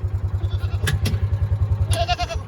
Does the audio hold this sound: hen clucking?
no